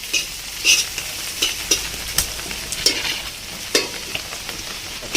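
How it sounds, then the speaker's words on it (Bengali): Mutton biryani ingredients frying in a pot over a wood-fired clay stove: a steady sizzle, broken by repeated scraping strokes of a stirring spoon at a brisk, uneven rhythm. "এটা আরেকটু ভাজলেই হয়ে গেল।"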